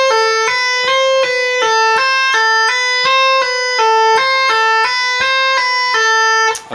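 Electric guitar legato exercise combining pull-offs and hammer-ons, a steady stream of bright, evenly spaced single notes cycling through a short repeating pattern, clean and close with no talking.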